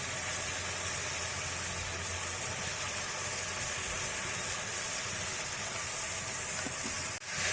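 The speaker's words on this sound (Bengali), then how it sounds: "পোস্তটাকে একটু ভেজে নিচ্ছি, একটু হলুদ দিব, একটু হলুদ দিচ্ছি।" Poppy seed paste frying in a pan with turmeric added, a constant dense sizzle of hot oil at moderate level, unbroken apart from a short clack near the end.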